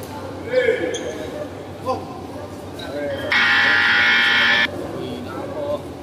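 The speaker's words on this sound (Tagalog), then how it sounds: "Ito yung buzzer." A loud, harsh buzzer blares steadily for over a second amid a noisy crowd and a voice talking.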